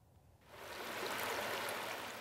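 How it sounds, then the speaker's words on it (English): Cool water of the Powder River in northeast Oregon, near the old Sumpter Valley gold dredge, rushes steadily and close by, swelling up from quiet into a constant broad hiss with no voices. "Northeast Oregon's Powder River, cool, quiet, and refreshing"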